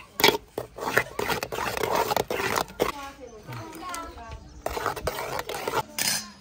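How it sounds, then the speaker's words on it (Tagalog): Chicken inasal ingredients stirred in a pan, with scraping and clinking of a utensil against metal under continuous chatter from adults and a child. "And then haluin po natin"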